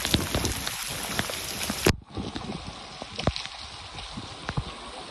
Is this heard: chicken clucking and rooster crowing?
no